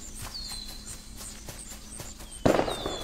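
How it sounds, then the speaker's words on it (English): New Year's fireworks bursting in The Wolf Simulator game, a series of light pops and crackles under steady ambient game sound and birdsong, then one louder sharp bang with crackling near the end. "they're throwing off fireworks for the new year"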